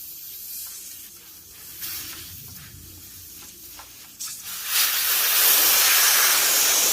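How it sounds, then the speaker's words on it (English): Air hissing out of an e-bike tire valve during a tire sealant install, a soft uneven hiss that swells into a louder, steady rush of escaping air over the last few seconds, close by with no talking. "You should start hearing some air come out here."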